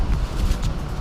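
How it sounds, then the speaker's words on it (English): Strong wind in Tarifa buffets the microphone with a continuous low, rumbling roar that swells and eases in gusts, loud and close, with no voices. "as you can tell, it's a little bit windy, hence why I'm behind this wall"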